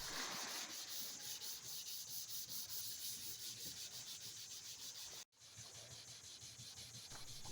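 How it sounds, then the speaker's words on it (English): Fine sandpaper rubbed across a boat's surface by hand, a steady rapid scratching of back-and-forth strokes heard close up, broken by one brief pause before the rhythmic sanding resumes. "While we were shopping, Bartek switched from a Scotch-Brite to various grids of fine sandpaper."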